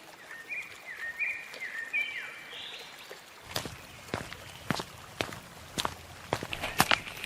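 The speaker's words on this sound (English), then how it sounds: "They hear footsteps along the way and see Zaidan walking towards them." Footsteps walking outdoors, a series of distinct single steps beginning partway through, spaced irregularly and growing slightly louder, after a quieter stretch with faint high chirping tones.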